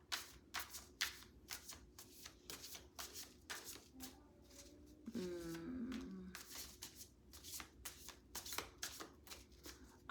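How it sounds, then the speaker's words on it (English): Tarot cards being shuffled by hand in quick riffling bursts, close and crisp, repeating in a steady rhythm with a short pause midway where a faint tonal sound briefly rises. "Felt like pulling some tarot today"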